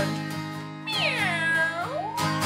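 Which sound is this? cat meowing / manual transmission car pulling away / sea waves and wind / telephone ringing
cat meowing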